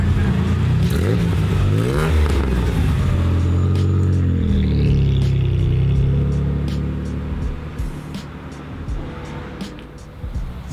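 A 1980s Honda CRX Si engine revs up and down with rising and falling pitch, loud and close, then settles to a rougher idle with clattering.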